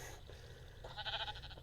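A sheep in a block-building video game lets out a short bleat, a single quavering call rising briefly over a quiet background.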